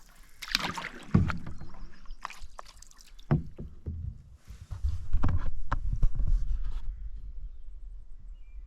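Canoe paddling on a lake on a warm day, with soft rhythmic paddle strokes, water splashing and drips, and hull knocks close by, with quiet gaps between strokes.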